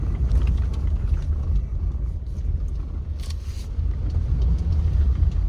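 Inside a car cabin while driving, a steady low road and engine rumble fills the space, with faint higher rattles and rushing air over it and no voices.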